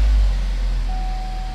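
Used Chevrolet Equinox engine idling steadily and loud right after starting, a low continuous rumble with a thin electronic chime tone joining partway through.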